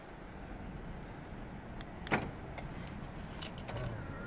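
On a new Ford Ranger, a click is followed by the faint whir of the electric side mirrors folding in after locking, quiet mechanical buzzing over low outdoor background.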